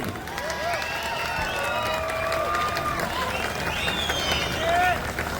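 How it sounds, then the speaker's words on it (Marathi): A gallery crowd at the Maharashtra Shree 2026 bodybuilding contest breaks into shrill, sliding whistles over a bed of clapping and general crowd noise, sustained and fairly loud throughout. "शिट्या आणि टाळ्यांचा कडकडाट पुन्हा गॅलरीतून."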